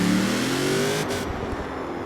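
A ZR2 truck engine in Forza Horizon 4 revs hard for a couple of seconds, a loud rising drone that drops off briefly before settling.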